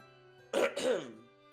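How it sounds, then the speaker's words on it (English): One person clears their throat in two quick rasping bursts, close and fairly loud, with quiet background before and after. "I had to clear my throat"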